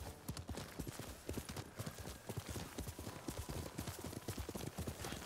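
A horse gallops in the video game Ghost of Tsushima, its hooves drumming in a fast, steady clip-clop rhythm that runs close and continuous throughout.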